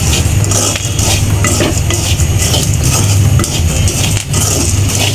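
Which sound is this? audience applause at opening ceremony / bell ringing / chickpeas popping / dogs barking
chickpeas popping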